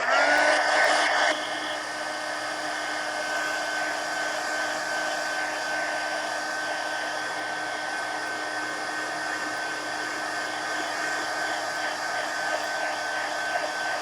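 A hair dryer blows steadily and loudly at close range over a mixed media art journal cover, with a brief louder burst at the start before settling into a constant whir with no talking.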